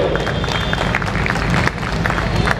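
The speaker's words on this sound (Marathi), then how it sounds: "टाळ्या वाजल्या पाहिजे, टाळ्या थोड्या कमी पडत आहेत" Audience applause at an honouring ceremony, dense and continuous clapping for the whole short stretch, fairly loud, with no speech.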